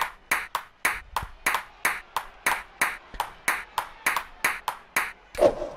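Ball bounces from the video game 1-2-Switch Table Tennis: a steady run of about fifteen sharp, bright pings at an even, quick rhythm, each clicking off clean, with a slightly louder final hit.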